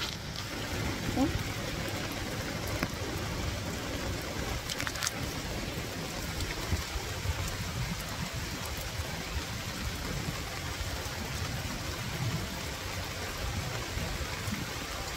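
Heavy rain during a typhoon keeps up a steady, moderately loud wash of falling water, with occasional faint voices and a few brief knocks mixed into the continuous downpour.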